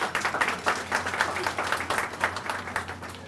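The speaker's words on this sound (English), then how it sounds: "Please give them a round of applause." Applause from the crowd at a public library's grand opening ceremony, steady dense clapping from a roomful of people that holds for several seconds with no talk over it.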